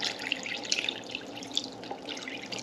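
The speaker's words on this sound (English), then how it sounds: "I'm fixing to add some more water to it." Water is poured into a pot of chicken broth that has been simmering all day, making faint splashing, dripping and trickling sounds in a quiet kitchen with no talking.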